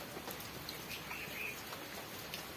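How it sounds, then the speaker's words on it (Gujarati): Heavy monsoon rain pouring down in Gujarat, a steady, faint hiss of falling water with a few scattered drop taps, continuous throughout with no talking. "વરસાદ ચાલુ છે"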